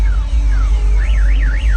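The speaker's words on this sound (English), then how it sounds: "This alarm so quiet," A car alarm at a car show wails loudly with a rising and falling warble, close by and continuous over a deep rumbling background.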